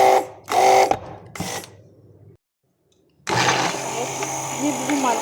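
A blender briefly whirs to mix ground spices and oil, running loud and steady for the last couple of seconds after someone speaks and a short silence.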